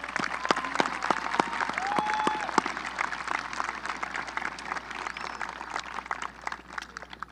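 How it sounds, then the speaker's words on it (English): A graduation ceremony audience at a high school applauds the teachers, sustained dense clapping from a large crowd with occasional cheers, filling the whole stretch. "Please join me in giving your teachers a round of applause."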